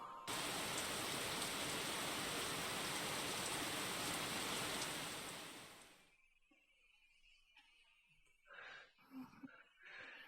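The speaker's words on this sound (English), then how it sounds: "it's been some time and it's still raining pretty bad" Rain from the visual novel A Sky Full of Stars falls as a dense, even hiss for about six seconds, then fades out. Faint soft sounds follow.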